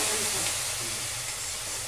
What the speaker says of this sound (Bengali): হালকা করে অল্প একটু জল দিয়ে দিচ্ছি।